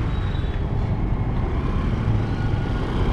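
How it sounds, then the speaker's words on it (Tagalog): Steady road traffic rumbles around a Fazzio scooter rider heading toward BGC and MOA, a dense continuous wash of car, truck and bus engine noise with no gaps, fairly loud and close throughout. "Traffic dito sa amin."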